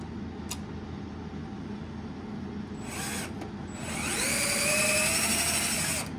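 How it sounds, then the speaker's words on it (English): An RCBS Trim Pro 2 case trimmer cutting 300 Blackout brass cases, with a whirring motor that spins up and then grinds steadily and louder, a few brief clicks before it, close by with no talking. "Pretty slick setup for those of you that are looking for a quick way to trim 300 blackout brass."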